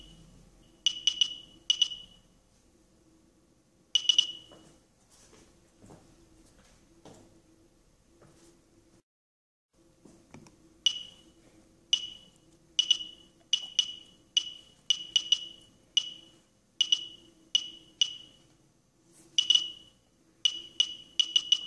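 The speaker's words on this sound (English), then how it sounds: "turn on the sound, which will give immediate feedback to the presence of radiation" A CT007 personal radiation detector clicking and beeping, sharp short chirps in irregular bursts, sparse at first and then coming faster, alone in a quiet room.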